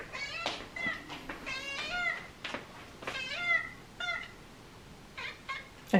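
A hungry house cat meows repeatedly from a nearby room, a series of drawn-out, insistent cries with short pauses between them and no talking over them.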